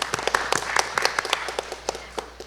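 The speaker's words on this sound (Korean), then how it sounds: "큰 박수 부탁드립니다" A small seminar audience claps, distinct individual hand claps close by that start fairly brisk and gradually thin out into scattered, sparser claps.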